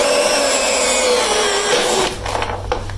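A power drill runs at high speed driving a screw down into a wooden stair tread, a loud continuous whining motor for about two seconds that then drops off into rougher grinding and clunks as the screw seats.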